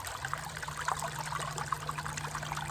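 Creek water trickling and babbling in a continuous close stream, a bright steady gurgle with no voices.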